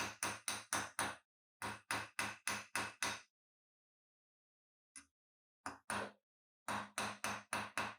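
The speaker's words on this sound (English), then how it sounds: "tap evenly across the blade's bevel" A hammer taps the steel blade of a Japanese hand plane in quick, evenly spaced metallic clicks, grouped in bursts of four to six with short pauses, close and crisp against silence.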